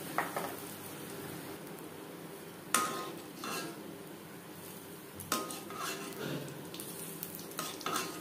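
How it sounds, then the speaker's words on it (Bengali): Banana malpua batter fries in hot oil in a pan, with a soft, continuous sizzle broken by a few sharp clinks of a utensil against the pan, close and quiet, no talking. "এভাবে উপরে দিয়ে দেবো গরম তেল।"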